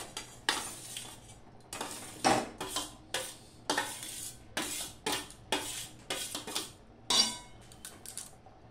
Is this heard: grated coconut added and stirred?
yes